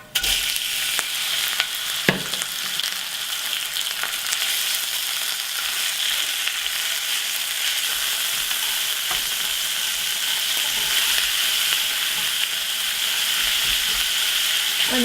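Beef sizzles in a hot pan with Sichuan peppercorn for mapo tofu, a loud continuous frying hiss with a few sharp crackles and occasional stirring scrapes, close and steady.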